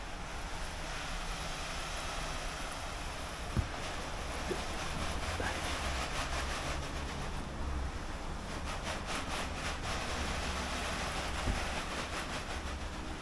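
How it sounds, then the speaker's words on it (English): A plain garden hose rinses foam cleaner off newly installed blinds, giving a steady, close, unbroken rush of spraying water with no talk. "now we just rinse it, just normal hose"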